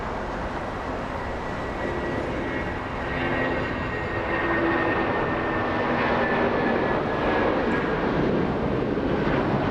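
United jet with RB211 engines in Star Alliance livery taking off at Los Angeles International Airport, a sustained engine roar with whining tones that slowly swells in loudness, heard alone.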